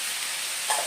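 Onions and potatoes fry in a pan with a soft, steady sizzle, faint and brief, with no talk over it.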